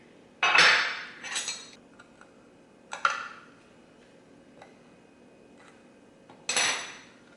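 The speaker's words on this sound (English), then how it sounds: "I'm gonna go ahead and take them out of the muffin tin" Several sharp metallic clanks and scrapes ring out as mini pies are pried from a metal muffin tin, spaced a second or two apart, with light clicks between them in a quiet room.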